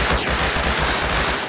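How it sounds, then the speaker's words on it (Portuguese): Rapid automatic gunfire in the survival video game Rust: a loud, continuous burst of closely spaced shots lasting about a second and a half. "Tá tendo tiro ou é aí?"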